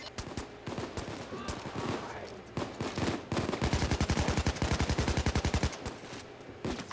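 An AK rifle fires in a video game shootout with police, with scattered shots and then long rapid automatic bursts, loud and close. Game voices and gunfire echoes are heard around the shooting.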